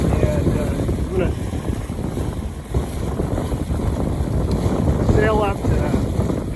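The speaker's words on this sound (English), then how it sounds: "finally switched to a west wind today, which is awesome" Steady wind roaring across the microphone aboard a Buccaneer 18 sailboat in a west wind near Cascade Locks and Stevenson, a constant loud rush with someone talking over it.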